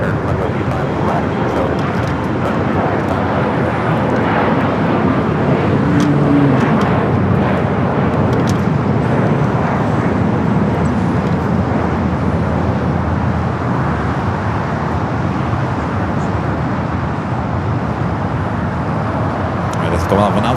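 A heavy Boeing 747 jet takes off at LAX, its broad engine roar rumbling steadily and loudly for about twenty seconds, with a faint rise and fall as it powers away, plus scattered clicks and background noise.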